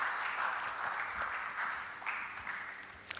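An audience applauds steadily in welcome of Sri Balram Yadav at a formal gathering, a dense, sustained clapping that swells briefly near the end.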